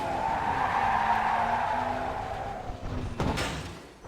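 A Formula Vee race car at Oulton Park in the iRacing simulator: a steady engine drone with a rising tone, then a sharp tire squeal and skid near the end, loud and alone.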